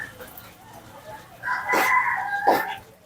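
A rooster crows twice in quick succession, fairly loud and close, over faint background noise at a meat shop.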